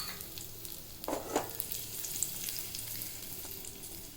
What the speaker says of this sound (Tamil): இந்த சூட்லேயே வந்து பார்த்திங்கன்னா அந்த திராட்சை நல்லா பொரிஞ்சு வந்துடும்